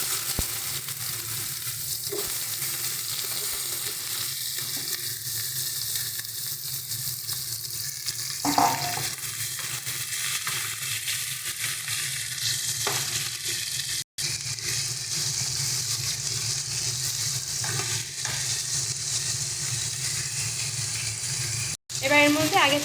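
Mixed vegetables drop into hot oil seasoned with panch phoron and bay leaf, setting off a steady, continuous sizzle and crackle that runs close and even throughout, with brief stirring bursts and no talk.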